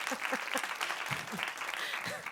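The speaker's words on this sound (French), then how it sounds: "On peut l'applaudir." An audience applauds Maman Sandra, a soft, continuous spread of clapping heard at low level, with a voice talking over it.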